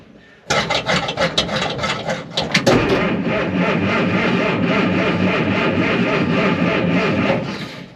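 A 1929 Ford Model A hot rod shop truck engine cranks over slowly on a weak battery with a steady rhythmic churn, then catches and settles into a loud running idle up close.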